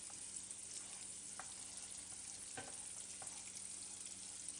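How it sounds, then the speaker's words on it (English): Onions frying gently in a pan, a soft and steady sizzle at low volume with a few faint clicks from a utensil, close up and with no talking. "Now we're going to let these onions cook down just slightly till they begin to get just a little translucent"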